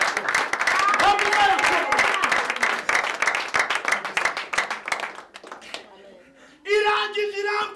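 A church congregation at a sermon breaks into dense, loud applause for about five seconds before it thins out, and a voice then starts speaking.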